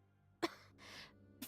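A wounded woman coughing up blood in the fighting game BlazBlue Continuum Shift gives a sharp cough, a raspy breath, then another cough, faint and close.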